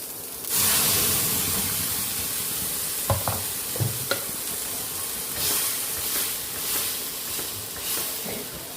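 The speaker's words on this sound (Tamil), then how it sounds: "கொஞ்சம் வதங்கட்டும் வெங்காயம். இப்போ வெங்காயம் நல்லா வதங்கிடுச்சு." Onions sizzling and frying in a pan for tomato sambar, with steady crackling hiss and occasional stirring clinks and scrapes partway through.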